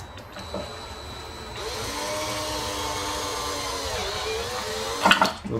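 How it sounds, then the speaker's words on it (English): A power drill with a 3.5 mm bit bores through a fridge door shelf, a steady close whine lasting several seconds that ends in a short clatter, with no talking. "Drill through as straight as you can."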